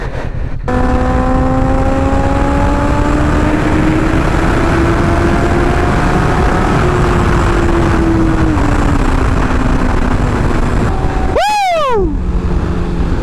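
A loud motorcycle being ridden close up, its engine roaring continuously with rising and falling pitch through gear changes, heavy wind buffeting underneath, and a sharp rising-then-falling pass near the end.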